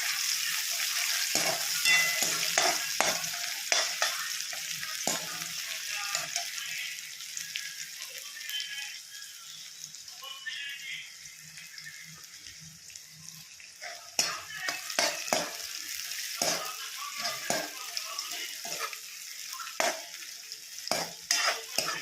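Onions sautéing in a pan toward golden brown in a village kitchen, a soft steady sizzle with repeated scraping stirs and spoon taps against the pan, no voices.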